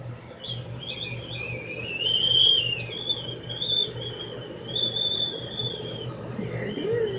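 A whistling tea kettle coming to the boil, its shrill rising whistle swelling to a peak and then wavering on at a steadier pitch over a low background hum.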